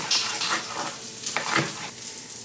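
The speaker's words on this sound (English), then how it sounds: "I'm just going to lightly toast our green pepper in there until it's tender." Green pepper toasting in a pan gives a steady close sizzle and crackle with soft stirring scrapes, running continuously with no talk.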